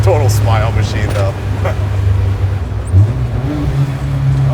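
A deep, steady exhaust rumble from a custom widebody VW bus on air suspension, idling and revving slightly, running under people talking close by.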